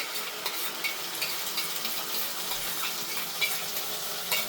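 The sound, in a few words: tomato puree added to frying peas and onion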